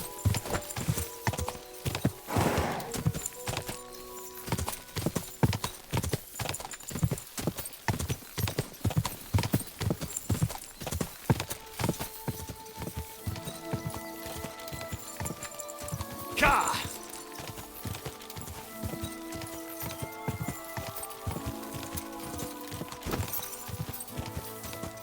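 Horse hooves clip-clop in a steady walking rhythm, close and distinct, with a short whinny partway through and some talk around them.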